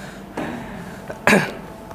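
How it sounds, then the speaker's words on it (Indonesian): A man coughs during a lecture on writing scientific articles, two short bursts about a second apart, the second louder and harsher, with a faint trailing sound near the end. "Ini batuknya asli"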